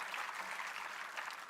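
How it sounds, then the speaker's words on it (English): A group of session participants gives itself a round of applause after finishing an activity, producing a continuous, even burst of many hands clapping that stays fairly soft and slightly distant for the whole stretch. "give yourselves a huge round of applause for completing this activity"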